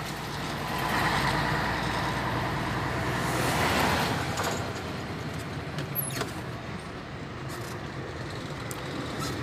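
A dump truck drives along a road, its engine rumble swelling close then easing as it pulls away, with steady broadband road noise and no speech.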